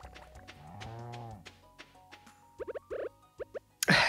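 A cartoonish cow moos once in the farming game Stardew Valley, a short low drawn-out call, followed by a series of small plopping and popping game effects and a sharp burst at the end.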